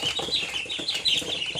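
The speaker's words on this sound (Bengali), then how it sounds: "এই যে হাঁস বাচ্চাগুলো দেখতে পাচ্ছি তোমরা, এই যে শুধু বেড়াবে, শুধু বেড়াবে" Ducklings cheep and fuss continuously in a brisk, high-pitched chorus, close by and fairly loud, with restless rustling beneath and no talking.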